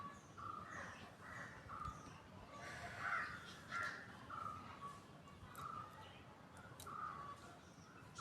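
Crows caw repeatedly in short bursts over a steady outdoor background, moderately distant and fairly faint, with a few calls overlapping and no clear talking.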